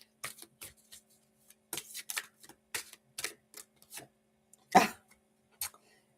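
Cards are shuffled in short bursts of crisp slaps and riffles, separated by silent pauses, with one louder riffle near the end.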